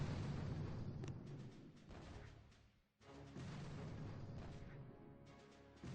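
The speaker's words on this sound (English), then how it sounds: "Hopefully I can get this down with 2 artillery, not 3." Artillery shells hit a War Factory in the Boom Beach game, a series of booming explosions and rumbling blasts in two bursts separated by a brief lull.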